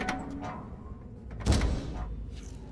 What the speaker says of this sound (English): I don't hear the man closing the giant metal door behind me as I walk into a new room.